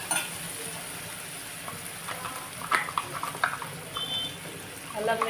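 Ginger garlic paste sizzling in a pan with softened tomato pieces, a steady frying hiss with clinks and stirring scrapes, while a voice talks over it.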